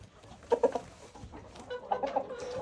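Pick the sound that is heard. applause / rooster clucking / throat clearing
rooster clucking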